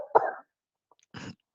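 A single sharp cough comes from a nearby man mid-conversation, followed after a short pause by a softer throat-clearing cough, with quiet silence between.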